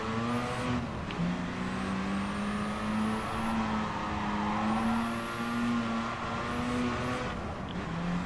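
A race car in Gran Turismo Sport on PS4 holds a steady, droning engine note at high revs with slight pitch shifts and occasional tire noise, loud and continuous with no talking.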